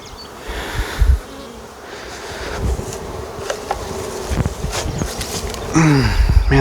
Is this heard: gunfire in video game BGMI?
no